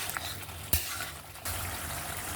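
Koi fish (climbing perch) is sautéed in oil with tomato in a pan, giving a steady, close sizzle and frying hiss, broken by one sharp stirring clack and a brief lull before the sizzle swells again.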